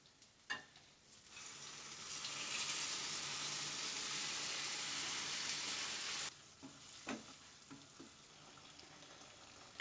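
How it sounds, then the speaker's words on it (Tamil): Cooked mutton sautéing in gravy in a pan for a Madurai pepper fry, giving a steady loud sizzle for several seconds, with occasional stirring knocks and scrapes before and after. "எடுத்துட்டு நாம் வதக்கிட்டு இருக்கிற அந்த கிரேவியில் இதில் சேர்த்துக்குவோம்"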